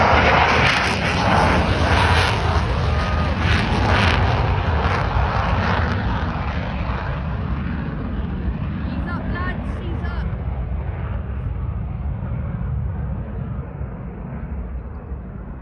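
Military jets, F-15 Eagles or F-35 Lightnings, arriving at RAF Lakenheath: a loud, roaring engine rumble that swells near and then slowly fades as the aircraft passes, continuous throughout.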